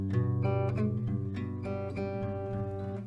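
An acoustic guitar plays a closing chord pattern built on G, with single bass notes leading into strummed chords. The playing is moderate and close, with no talking over it.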